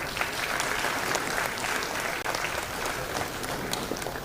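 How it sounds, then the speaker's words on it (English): Sustained applause from a large audience at a university convocation ceremony, honoring a medal winner for academic excellence; steady, dense clapping throughout with no voices over it. "Another round of applause for Vanisha."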